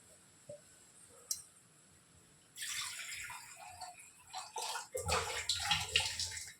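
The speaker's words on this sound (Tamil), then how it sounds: "கொஞ்சம் கொஞ்சமாக தண்ணி ஊற்றி மிக்ஸ் பண்ணணும்" Water is poured into flour, splashing and trickling steadily for several seconds, getting louder and more agitated toward the end, close by with a wet, sloshing texture.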